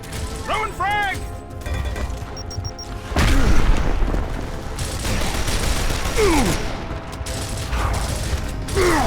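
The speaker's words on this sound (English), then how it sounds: "Throwing frag!" A frag grenade blast in the shooter game Gears of War, a loud booming burst amid continuous gunfire and mechanical clatter, with a swell of heavy rumble partway through.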